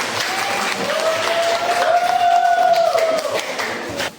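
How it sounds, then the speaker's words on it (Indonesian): Classroom group applauding after a student presentation, a dense burst of clapping swelling and holding for about four seconds before stopping abruptly, with a faint whistle-like tone and some voices underneath. "Oke, tepuk tangan untuk kita semua."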